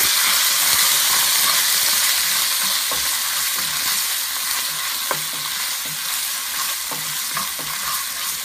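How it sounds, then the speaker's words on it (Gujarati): Tomato paste is stirred and cooked in a pan with a loud, continuous, hissing sizzle, with light taps from the stirring spoon throughout. "હવે આને આપણે ફાઇન રીતે હલાવશું અને જરાક ટમેટો પેસ્ટને આપણે રાંધવા દઈશું જરાક જ"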